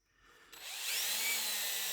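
A drill bit bores into aluminum, starting quiet and then quickly rising to a loud, sustained high-pitched grinding whine close by.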